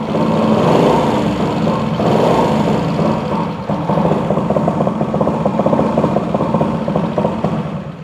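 A 1969 Honda S90 motorcycle, kick-started and slightly leaking oil, runs steadily with a rapid, buzzing single-cylinder putter, close and loud, with no speech over it.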